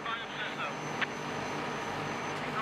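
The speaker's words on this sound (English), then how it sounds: "the engines can again be started" Engines aboard a salvage vessel working the wreck of the MSC Napoli in Lyme Bay run as a steady, loud mechanical drone that holds evenly throughout.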